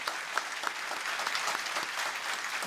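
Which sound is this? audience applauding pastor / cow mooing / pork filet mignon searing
audience applauding pastor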